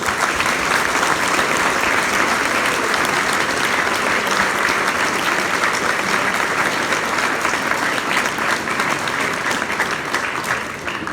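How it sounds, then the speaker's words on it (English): An audience at a school leavers' breakfast gives a sustained round of applause for the sixth form staff, a loud, dense and even clapping from many hands that runs unbroken and fades slightly at the end. "We could give them all a round of applause."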